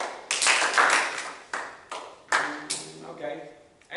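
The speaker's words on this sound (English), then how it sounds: "Clap, clap." Players at a youth team meeting clap in short scattered bursts, several separate claps and small clusters fading between them, with talking mixed in underneath.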